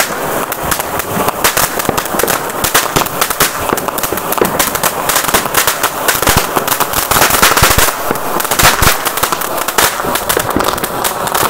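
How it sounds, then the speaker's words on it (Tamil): Rapid, dense crackling bursts of Diwali firecrackers pop continuously at close range, loud and relentless with no pause across the whole stretch. "எனக்கு பிடிச்ச பட்டாசு இதுதாங்க."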